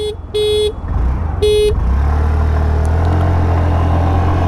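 A TVS Jupiter 125 scooter's horn beeps three times, loud and close, each a short electric tone, followed by the engine revving up and a steady hum of acceleration.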